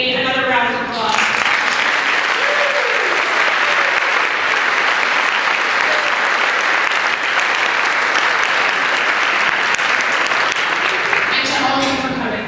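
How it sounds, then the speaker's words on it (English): Sustained, loud applause from an audience at a children's holiday school concert, dense clapping lasting about ten seconds between brief speech at the start and end. "So to all the Homer teachers, another round of applause."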